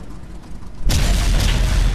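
A tank cannon fires in World of Tanks, a sudden loud boom just before the one-second mark, then a sustained rumbling roar of battle noise that carries on to the end.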